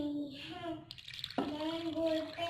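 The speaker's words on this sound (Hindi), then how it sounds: "इसमें पानी शामिल करेंगे।" Water pours into a cooking pot of minced beef with salt and turmeric for aloo beef keema, a brief splashing rush in the middle, with a voice and household noise around it.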